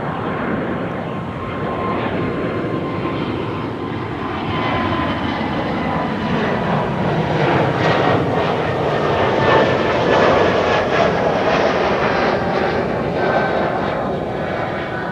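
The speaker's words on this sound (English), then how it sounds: "the 777 to Willemstad is lining up first" A KLM Boeing 777 bound for Willemstad lines up on the runway at Amsterdam Schiphol, its engines giving a steady, loud, broadband roar that swells slightly toward the middle and holds for the whole stretch, with no voices.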